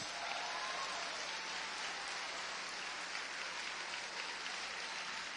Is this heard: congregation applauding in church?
yes